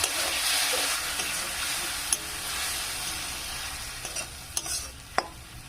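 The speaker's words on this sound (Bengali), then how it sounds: "জল দিয়ে দিয়ে এটা আমি কষবো।" Spice masala stir-fried in a pan with a little water for a Bengali eggplant and egg curry, giving a steady loud sizzle broken by a few sharp scrapes of the spoon against the pan.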